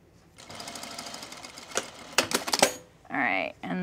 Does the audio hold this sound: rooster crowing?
no